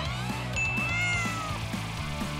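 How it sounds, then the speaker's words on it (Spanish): A cartoon cat meows and yowls in a drawn-out, rising-and-falling cry while chasing a laser dot, heard over background music with steady rhythmic beats. "Los gatos y los láseres son una gran combinación"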